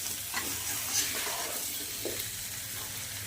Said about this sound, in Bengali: কষাতে হবে, সুন্দর করে কষাতে হবে। দেখুন যেন মশলাটা বেগুন আলুর মধ্যে গায়ে লেগে যায়।